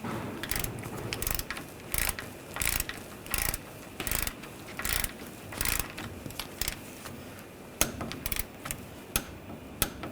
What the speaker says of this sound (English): We're going to torque this nut to 26 foot-pounds.